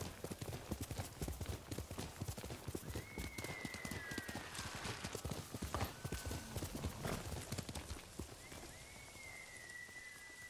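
Steady clip-clop of horse hooves from a mount in Ghost of Tsushima, a continuous rhythmic trot running throughout, with rain and a few faint whistling tones behind it and no voices.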